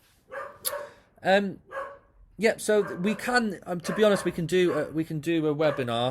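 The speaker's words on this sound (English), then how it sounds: "Sorry about the dog if you can hear that in the background." A pet dog at home barks and yips several times in short bursts, fairly close and loud, at first alone and then under a man's steady speech.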